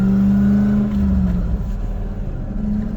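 A pickup truck with a swapped-in Toyota 1UZ V8 engine runs and drives, its steady, loud engine drone holding close and continuous throughout with slight rises in revs.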